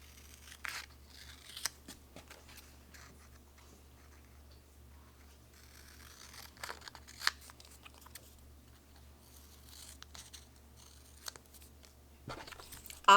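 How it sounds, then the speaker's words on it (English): Scissors snip through paper in short, uneven bursts, close by and fairly quiet, with light rustling between the cuts and no voices. "I'm just going to take scissors to keep it"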